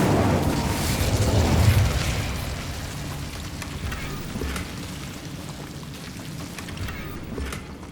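Incendio fire spell cast in Hogwarts Legacy, a loud roaring burst of flame with crackling that swells early and then tapers into a steady rumbling hiss.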